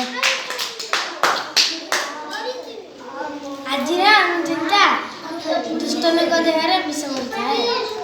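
Schoolchildren clapping their hands in a classroom, a run of sharp claps at the start giving way to children chanting and talking loudly, close to the listener.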